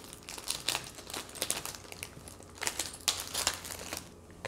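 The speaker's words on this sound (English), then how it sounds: "So I'm gonna take the plastic off." Plastic wrapping crinkles and crackles in irregular bursts up close as it is removed from journal supplies, with sharp rustling spikes and brief tearing sounds, no talking.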